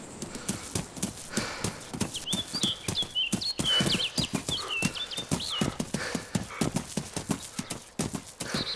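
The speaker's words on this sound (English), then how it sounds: "Sounds like there's 3 footsteps." Footsteps in the DayZ video game, a dense run of rhythmic, hard thudding steps like hooves on ground, close and steady throughout, with faint background murmurs.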